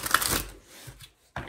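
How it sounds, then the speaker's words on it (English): Quick riffling bursts of tarot cards being shuffled, a couple of brisk flutters separated by a short pause, close and fairly quiet. "I want to make sure I get a good shuffle for you."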